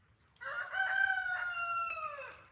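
A rooster crows once in a long, drawn-out call lasting about two seconds, fairly close and clear against a quiet background with a faint low rumble.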